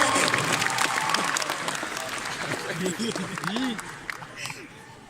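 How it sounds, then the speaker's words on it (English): Crowd at an anime convention opening ceremony applauds Maid Cafe dancers, a full, continuous clapping with voices calling out over it midway, fading toward the end. "I'd like you to please give them a big round of applause as well."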